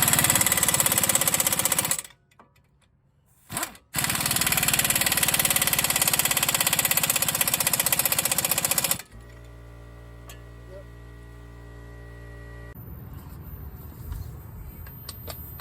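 An air compressor recharges in a garage during steering knuckle work on a 2005 Toyota Corolla, its loud rapid pumping hammering steadily with one brief pause, then giving way to a quieter, even mechanical hum.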